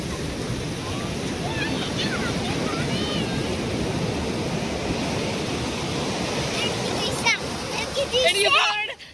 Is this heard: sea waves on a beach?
yes